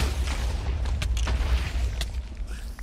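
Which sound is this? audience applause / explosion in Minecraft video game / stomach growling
explosion in Minecraft video game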